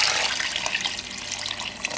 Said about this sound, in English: you now fill it up with clean water